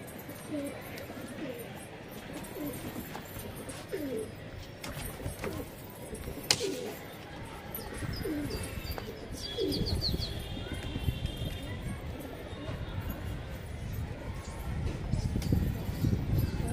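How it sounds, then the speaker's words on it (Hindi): Domestic pigeons kept for a pigeon-flying hobby in Bareilly, India, coo softly, with occasional wing flapping mixed into a busy outdoor background and intermittent voices. "आ गया भाई कबूतर।"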